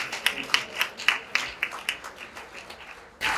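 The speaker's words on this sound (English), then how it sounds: "Can we please give her a resounding applause" An audience at an award ceremony gives scattered, light applause, with a few sparse claps spaced out across the moment and a brief louder burst at the end.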